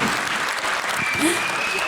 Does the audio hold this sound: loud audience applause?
yes